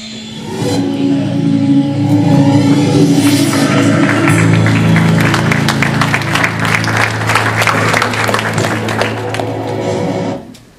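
A talk audience at a social enterprise event applauds as the next speaker is introduced: loud, dense clapping holds steady for about ten seconds over a low sustained tone, then stops abruptly.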